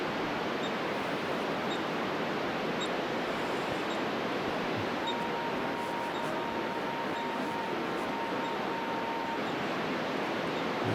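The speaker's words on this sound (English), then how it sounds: "that's a guy whistling into his radio" A man whistling over an amateur satellite radio link: a thin, steady whistled tone rises out of constant hissing static midway through and holds for a few seconds before fading, with the static rushing loudly around it.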